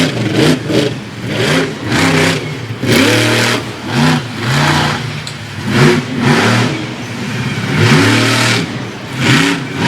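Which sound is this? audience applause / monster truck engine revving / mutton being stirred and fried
monster truck engine revving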